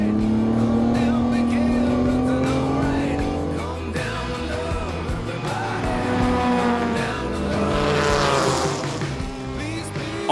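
Historic race cars, a Ford GT40 and a BMW 2.8 CS, race at a Tour Auto event, their engines roaring and droning loudly as they pass, with a voice speaking over the engine noise.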